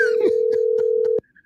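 A telephone line rings on a call to a Chick-fil-A restaurant, one long steady ring tone that cuts off abruptly, followed by brief faint tones.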